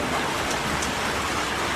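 Heavy rain pours onto a street in Angeles City, Philippines, a steady dense hiss of drops on wet pavement that stays loud and unbroken throughout.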